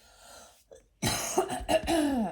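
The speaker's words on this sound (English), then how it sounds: "I feel like I need to clear my throat." A woman clears her throat with a short, rough burst that follows a faint earlier sound and leads into a longer, louder stretch of hoarse throat noise, close and alone.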